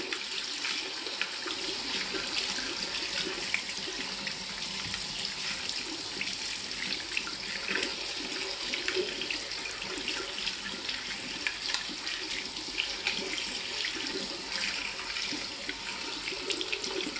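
Tap water runs steadily for over fifteen seconds as a Nespresso coffee machine nozzle is held under the faucet, a continuous close hiss and splash with no talking.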